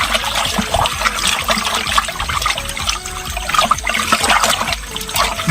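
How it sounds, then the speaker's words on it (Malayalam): Continuous watery sloshing and trickling as water in a bucket is swirled by hand while laundry is blued, with a steady splashing texture throughout and no voices. "നമ്മൾ കൈയിട്ട് ഇളക്കണം"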